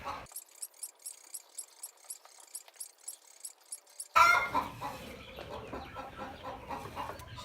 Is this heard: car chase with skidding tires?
no